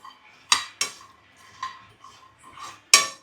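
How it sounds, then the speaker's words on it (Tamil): Walnuts and other nuts being stirred and dry-roasted in a pan for a high-protein nut powder: several sharp clinks and scrapes of a utensil against the pan, close up, with quieter rattling between them and no talking. "நல்லா வறுத்துப்போம்."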